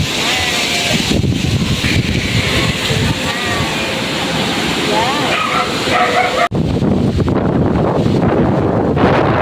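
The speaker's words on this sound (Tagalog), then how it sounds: "Big hangin dito, guys." Gusty wind rumbles loudly against the microphone at a cafe with a 360-degree view in Binangonan, Rizal, while a dog barks and whimpers intermittently, with voices faintly under the noise.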